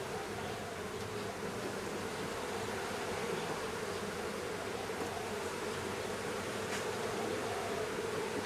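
Honey bees swarm and buzz during a lychee honey harvest in Vietnam, a dense steady hum that stays loud and close throughout, with no talk.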